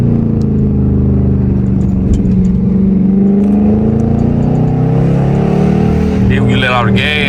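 A Dodge Challenger Scat Pack engine roars loud and close from inside the car at night, holding a heavy continuous drone with rising and falling revs and crackling downshifts near the end.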